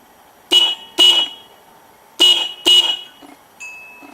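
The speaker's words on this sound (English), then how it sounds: "So the first thing to do is to show you just how loud the existing horn is" A stock motorcycle horn honks in short, loud, close beeps, sounded in two pairs, then a fainter, thinner tone at the end.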